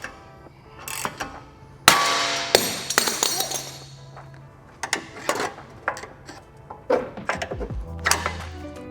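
Hard metallic strikes of a hammer on a ball joint separator fitted to the front lower control arm of an Audi B9, a series of sharp, loud clanks at irregular intervals with ringing tails, alone and close.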